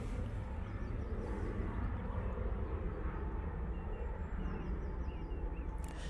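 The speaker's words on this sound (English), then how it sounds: "Ryanair 737 MAX 8 are now departing" Ryanair Boeing 737 MAX 8 jet departing Manchester Airport at dusk, a steady broad engine roar heard from a distance with faint birdsong over it and no talk.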